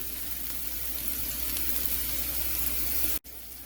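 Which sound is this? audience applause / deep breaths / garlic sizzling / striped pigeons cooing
garlic sizzling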